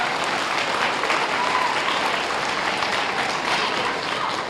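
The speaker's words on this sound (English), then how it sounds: "Round of applause for our wonderful nurse, Mrs. Ibadete." An audience at a school health event gives a nurse a round of applause, a dense, steady clapping that fills the whole stretch at even volume.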